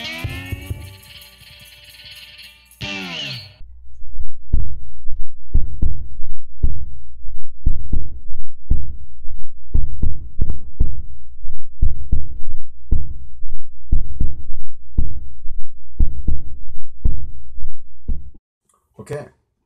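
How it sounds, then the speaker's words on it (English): A homemade cigar box cajon with a piezo pickup is struck in a steady pattern of deep, thumping hits, loud and close, for about fifteen seconds after a brief burst of other sound at the start. "it's a cigar box with a hole in it for sound to come out. It's got a piezo pickup mounted on the top"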